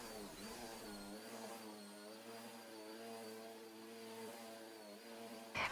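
A Dyson Gen5detect Absolute vacuum cleaner works over carpet, giving off a steady, fairly quiet motor whine with a constant tonal hum and no talking.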